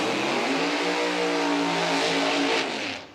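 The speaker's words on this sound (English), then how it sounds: "The loud car that you just heard, Scott Kincaid, screw-blown Chevrolet" A loud screw-blown Chevrolet drag car driven by Scott Kincaid roars in a sustained, heavy engine note at a PDRA drag racing event, holding steady before fading away at the end.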